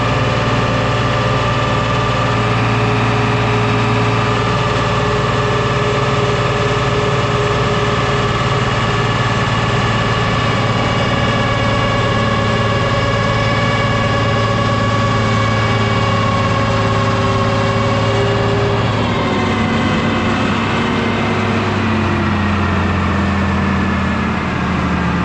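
John Deere 7520 tractor engine running steadily under load on an M&W dynamometer, a loud, continuous low droning roar with a shift in pitch near the end.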